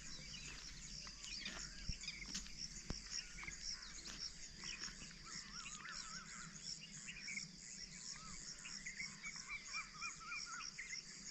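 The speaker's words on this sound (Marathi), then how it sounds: "कोकिळा कावळ्यांचा आवाज ठेशनवर आहे पण तिथला आवाज इथं सुद्धा स्पष्ट येतो" Birds call in the distance on a quiet morning, with cuckoos and crows mixed among scattered chirps over a steady, faint chorus of insects. No one speaks.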